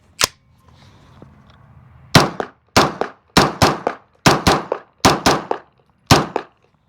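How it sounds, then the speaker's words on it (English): Unsuppressed gunshots firing subsonic ammunition from a full magazine, eight sharp loud reports, one alone and then seven in a steady rapid string, each with a short ringing tail. "Now let's try it unsuppressed."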